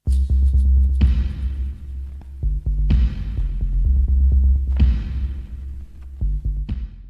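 Electronic music in a remix, with a loud, deep, throbbing bass pulse, repeating tonal hits and sharp accents roughly every two seconds, and no voices.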